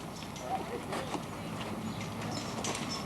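Horse hooves clip-clop at an outdoor farm show, steady footfalls moving along under a crowd murmur and someone talking nearby.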